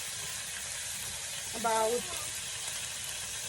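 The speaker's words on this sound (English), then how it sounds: "And then I'll add some soya sauce in it." Soy sauce poured into a hot pan sizzles with a steady, bright frying hiss throughout, while a voice briefly speaks over it.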